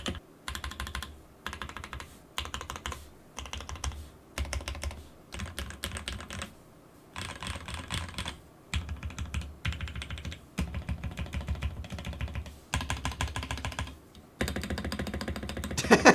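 Bursts of rapid typing on a custom mechanical keyboard fitted with Franken switches, deep clacky keystrokes in quick clustered runs separated by short pauses, close and clear with no talking.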